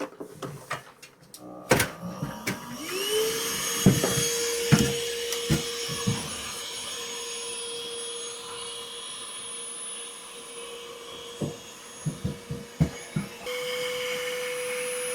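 A vacuum draws honeybees out of a massive colony inside a hive, with a steady motor hum running throughout and repeated sharp knocks and thumps as the hose works against the comb frames.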